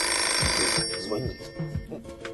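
A telephone bell rings loudly at the start, then fades as a voice speaks over the tail of the ringing.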